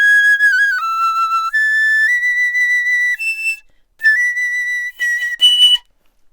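A piccolo plays a short melody of clear, high, bright sustained notes stepping up and down, with brief pauses between phrases and a few quick trilled notes at the end, close and solo.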